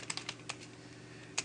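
Keystrokes on a computer keyboard, a handful of sharp separate clicks spread irregularly over a second and a half, close and fairly quiet, with no talking.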